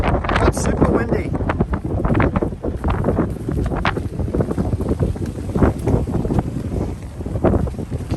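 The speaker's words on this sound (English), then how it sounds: "Oh, it's super windy." Strong gusting wind buffets the microphone with loud, rumbling bursts that rise and fall constantly.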